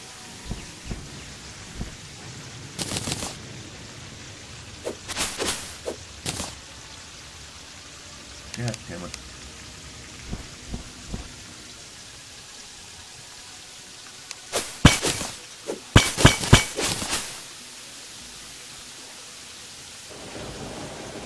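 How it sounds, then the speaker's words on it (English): Rain hisses softly in Terraria's desert while several sharp, crackling thunder-like bursts strike at intervals, loudest in a cluster near the end. "Raining desert."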